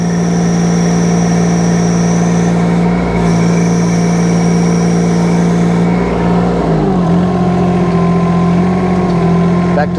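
A mini excavator engine runs at higher throttle with a loud, steady drone, shifting in pitch partway through as the revs change.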